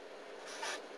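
A number written by hand, a continuous scratchy stroke of pen on paper that is close but quiet and swells for a moment near the end.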